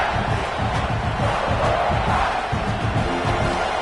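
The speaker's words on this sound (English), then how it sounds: "And this crowd coming to life here trying to help the defense get a stop with the offense pinned back." A football stadium crowd roars steadily and loudly throughout, a dense continuous wall of cheering at a South Carolina versus FSU game.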